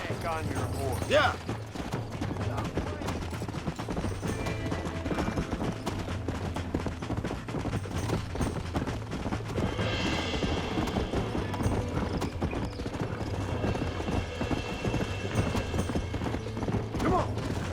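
A horse in the Red Dead Redemption video game clip-clops steadily at a gallop, with rhythmic hoofbeats running throughout and occasional bursts of gunfire layered in the background.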